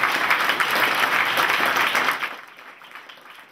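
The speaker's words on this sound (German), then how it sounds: "Auch da brauche ich jetzt einen Applaus." Audience applause for the students of a school at a keynote event, a dense burst of clapping that holds steady for about two seconds and then quickly thins and fades out.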